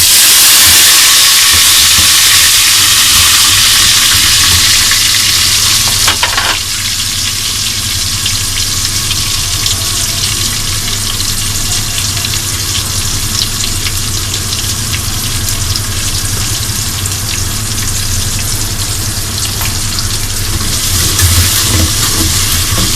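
Tomatoes drop into hot oil and fry in a steady, loud, dense sizzle that runs the whole time. A burst at the start settles into a continuous crackling hiss, with no talking.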